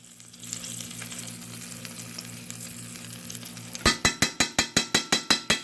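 A pasta mixture fries in vegetable oil for cheesy bowtie pasta, with a steady soft sizzle at first, then about ten quick, evenly spaced sharp clinks as a utensil strikes the pan while stirring.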